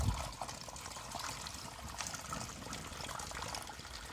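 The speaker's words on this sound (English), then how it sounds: "So these pop bottles are then filled with water." Water poured into pop bottles set in the soil of a small cucumber plantation, a quiet, steady trickle and splash that runs on without a break and no talk.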